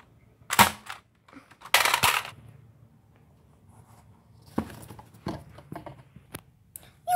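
Video game gunfire from Call of Duty: a few sharp bursts of shots, loud and broadband, separated by quieter gaps with scattered clicks and thuds in the background.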